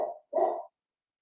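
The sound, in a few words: dog barking upstairs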